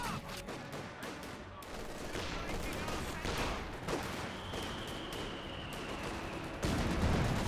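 Mortar shells strike German Grenadiers in the World War II strategy game Company of Heroes 2, a dense barrage of booming impacts and rattling gunfire that stays loud throughout, with a heavier blast near the end.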